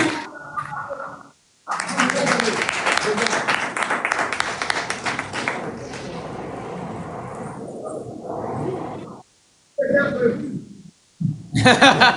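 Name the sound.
audience applause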